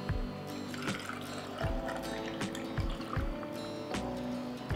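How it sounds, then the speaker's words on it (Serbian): Water poured into glass jars packed with apricots and a spoonful of sugar each, a steady close splashing fill broken by repeated dull knocks and glassy taps, no voices. "Tegle ću sada napuniti sa vodom."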